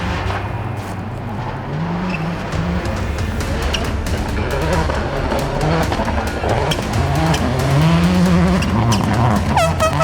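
Rally cars at the Idaho Rally roar past at high speed, loud engines rising and falling in pitch through repeated gear changes, with a continuous close, aggressive drone throughout.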